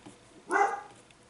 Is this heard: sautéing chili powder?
no